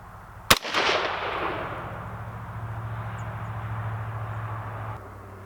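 A single sharp, loud gunshot from a Savage A17WSM semi-automatic rifle fired outdoors, followed by a brief echoing tail and a steady low background hum.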